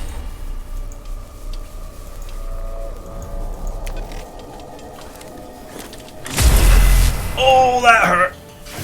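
A shot fired at an orb in the Warhammer 40k Mechanicus strategy game: a loud burst partway through, followed by bright synthetic impact tones, over low quiet game ambience.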